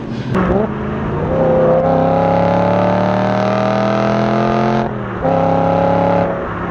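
A BMW E92 M3 engine revs loudly and holds a rising, sustained roar, briefly dips, then revs up again before easing off.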